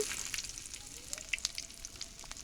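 Chopped onion and green chilli frying in oil in a pan for a cauliflower chutney, giving a steady, fairly quiet crackling sizzle with small spits and pops throughout and no talk.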